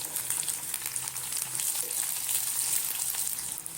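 A large chopped onion and unpeeled garlic cloves sauté in a pan for chutney, making a loud, steady, close hiss of frying with faint stirring and no talking.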